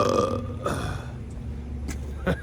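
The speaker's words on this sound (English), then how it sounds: "I burped in California." A single loud, drawn-out burp from someone in a hot tub at Huntington Beach, California, close and clear, followed by a couple of short sharp sounds.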